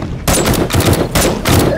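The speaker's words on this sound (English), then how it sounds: "Use a gun." Dense automatic gunfire from the survival game 7 Days to Die, loud and close, in several rapid bursts with short gaps between them.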